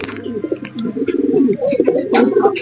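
A Laldom pigeon, its wings fully red, coos in low rolling phrases close by, with other soft bird sounds and a faint voice nearby.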